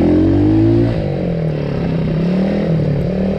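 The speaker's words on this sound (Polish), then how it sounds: "Dźwięk wiadomo, że będzie inny. Bo to całkowicie inny wydech." A small enduro scooter with a newly fitted aftermarket exhaust revs up and pulls away, its engine note rising sharply, then dropping as it shifts into a steady, rough buzzing drone close to the microphone.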